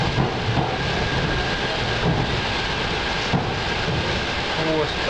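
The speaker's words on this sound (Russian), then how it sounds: "Сейчас на электричке" A suburban electric train rolls along the rails with a steady, loud rumbling roar and faint rhythmic clatter, heard from inside the carriage.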